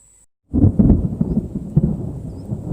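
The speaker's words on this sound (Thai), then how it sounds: "เสียงฟ้าแลบ" Thunder during an evening rainstorm, heard from a camp inside an abandoned hut: after a near-silent moment a loud rumbling roll breaks in and keeps grumbling and swelling for a couple of seconds, with rain behind it.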